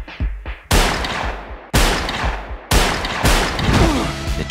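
Heavy bursts of gunfire from a 2021 action movie trailer, three loud booming volleys that each start abruptly and trail off into a rumbling wash, with no talk.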